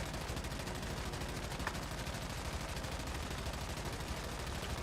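Rapid, sustained automatic gunfire from a fast-gunner weapon build in the video game Once Human, a dense unbroken stream of shots with no pauses.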